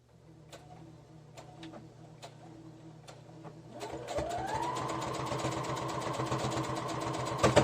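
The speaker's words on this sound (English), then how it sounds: "I always put the batting down on my machine. And I'm just using a straight stitch." A sewing machine runs a straight stitch through quilt batting. Faint hum and a few light ticks come first, then the motor starts up into a loud, steady, fast chatter of needle strokes, heard close with no talking.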